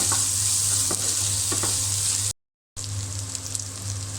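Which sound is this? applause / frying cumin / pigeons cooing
frying cumin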